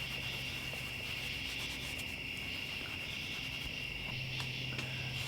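Fine sandpaper rubs against a part from a Suzuki RM125 dirt bike in rapid, even strokes, producing a steady scratchy hiss close by with no talking.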